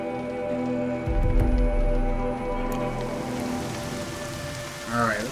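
Steady rain pattering on surfaces in the Horizon Zero Dawn video game, continuous and fairly close, with a low rumbling swell in the middle and a brief watery flutter near the end.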